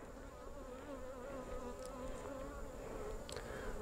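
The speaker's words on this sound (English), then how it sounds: "And there's a lot of bees around her." Honeybees buzz around a freshly mated queen during a winter-prep hive inspection, a dense, steady drone of many wings close by, with no talk.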